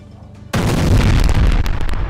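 An air strike on a bridge in Karaj, Iran, going off as a sudden loud blast that breaks the quiet and then rolls on as a heavy, rumbling roar.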